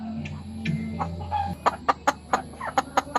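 Chickens cluck loudly and close by, starting with a few scattered calls over a low hum and then breaking into a quick run of sharp, evenly spaced clucks.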